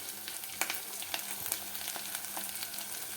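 Vegetable pieces frying in a pan with a spoonful of ginger garlic paste and a little turmeric, giving a steady close sizzle with a few sharp crackles and stirring scrapes.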